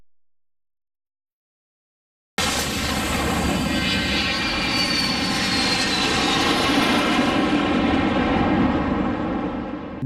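After a few seconds of silence, an airplane engine roar heard from inside the cabin starts abruptly and then holds loud and steady as a broad, continuous drone.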